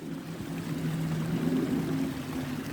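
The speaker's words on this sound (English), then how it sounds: "water tumbling down the hill" Water tumbling down a hillside stream in Yellowwood State Forest gives a steady, low rushing and gurgling flow, close by and continuous, with no voices over it.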